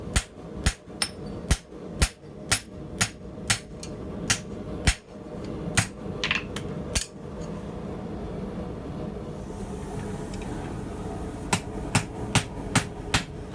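Hammer blows ring out on steel over an anvil while forging a drawknife from an old file, a steady run of sharp, loud metallic strikes with a short pause before the rhythmic blows resume.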